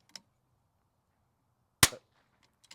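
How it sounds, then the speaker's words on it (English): A rimfire rifle with an 18-inch Bartlein barrel in kukri contour fires during a ten-shot string. One sharp crack rings out clearly, with faint clicks and small sounds before and after it. "Here we go, 10 shots."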